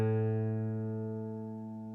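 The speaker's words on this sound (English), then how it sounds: "if you listen to those two notes together, you'll hear a modulation between the two strings" Two guitar strings ring together as they are tuned, a sustained chord whose tone wavers in a slow beating pulse while gradually fading.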